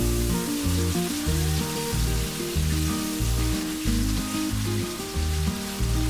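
Crab hakka noodles with fish sauce, sweet chili and red chili sauce fry in a pan, giving a loud, steady sizzle with crackling spatters, under a backdrop of music with a repeating bass pattern.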